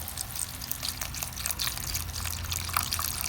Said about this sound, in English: I'm just going to add some more beef stock